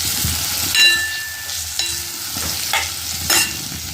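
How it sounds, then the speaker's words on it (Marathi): Onion and bitter gourd are stir-fried in a pan, a steady sizzle broken by repeated scrapes and clinks of a spatula against the metal, close and clear with no talk. "थोडा वेळ परतवून घ्यायचं व्यवस्थित तसं सोडायचं नाही जास्त परतवून घ्यायचं"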